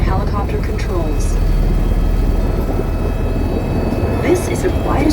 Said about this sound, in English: This is the quietest helicopter of its class in the world.